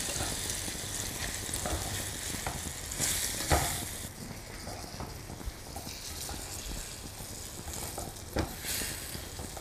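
Flour-dusted lamb pieces fry in a hot pan for a lamb burgundy dish, giving a steady, dense sizzle with occasional stirring clatter and spatula knocks, close and continuous with no talking.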